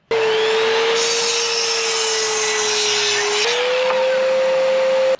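Power saw cutting through a board for a DIY carpenter bee trap, a loud steady whine with a sustained tone that drops slightly near the end, running continuously for about five seconds.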